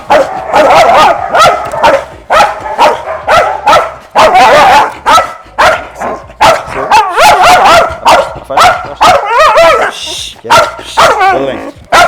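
A female Belgian Malinois on guard barks at a stranger approaching, loud and close, in a steady run of sharp barks with short yelps and whines between them.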